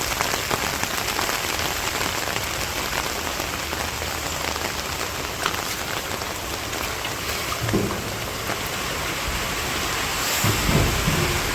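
Steady rain pours onto a village rooftop, a dense, even hiss of drops close by, swelling slightly near the end, with no voices.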